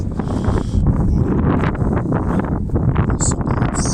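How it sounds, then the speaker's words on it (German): Gusty wind buffets the microphone outdoors beside a scooter, a rough rumbling roar with fluctuating strength, and a voice speaks partly beneath it. "Es ist gerade Wind."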